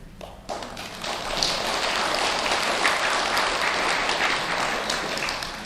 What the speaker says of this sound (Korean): 지금 박수 소리가 조금 작은 건